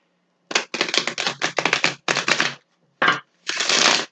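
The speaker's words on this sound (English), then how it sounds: "we're going to go ahead and give the cards a couple shuffles." A deck of cards is shuffled during a card reading: several quick, close riffling bursts with short pauses between them, then one longer shuffle at the end, with no voices.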